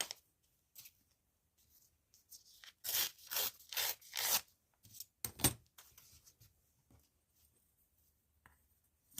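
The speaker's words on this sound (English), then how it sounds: "Just roughly tearing it to size, and then I'll trim the rest." A strip of paper is torn roughly to size by hand up close, a string of quick ripping bursts in the middle, with quiet rustling and handling sounds before and after.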